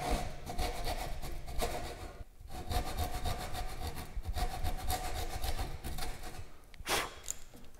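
A rip saw crosscuts timber by hand in a workshop, a steady rhythm of close rasping strokes with a brief pause partway through, and no talking.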